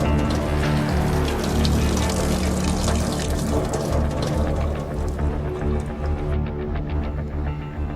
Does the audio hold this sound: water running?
yes